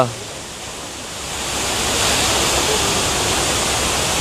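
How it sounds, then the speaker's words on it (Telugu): A steady, roaring rush of falling water at Milford Sound, New Zealand, loud and continuous, swelling slightly partway through and holding at full strength. "ఇంకా చిన్న చిన్న వాటర్ ఫాల్స్ కూడా సైడ్ని వస్తున్నాయి చూడండి"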